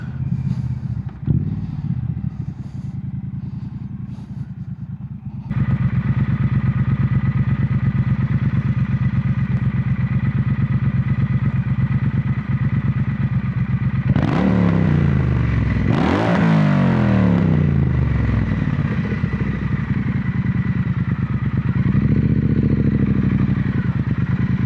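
Triumph Bonneville motorcycle on the road, engine droning steadily and loudly with gear changes marked by sharp rev rises and drops midway, plus strong wind buffeting throughout.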